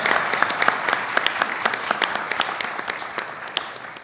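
Audience applauds at an international higher-education seminar, a steady patter of many hands clapping at moderate loudness for about four seconds with no talk over it.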